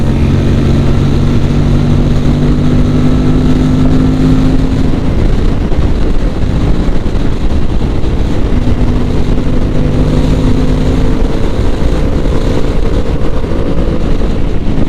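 An Aprilia RS 457 motorcycle engine roars loud and close while riding, its revs holding high then dipping and climbing again, buried in steady wind rush.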